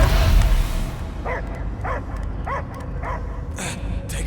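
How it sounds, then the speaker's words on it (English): A dog barks about five times in a steady rhythm over a murky, rumbling background in Guardians of the Galaxy, with a burst of noise at the start. "I hear only barking."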